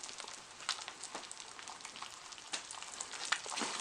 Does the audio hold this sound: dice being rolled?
no